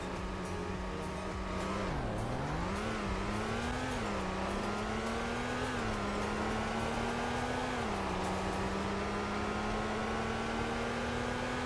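A car engine in the Roblox Greenville video game revs up and down, dipping and climbing in pitch before holding steady at the rev limiter, a continuous droning tone alone with no talk.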